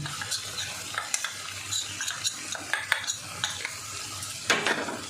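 A spatula stirring ground hot chilli and Kashmiri chilli powder in a frying pan, with repeated close scrapes and light clanks over a continuous low sizzle of oil.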